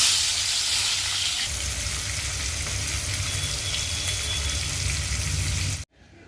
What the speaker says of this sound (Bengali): এবার মা মাছগুলোকে ভেজে নেবে।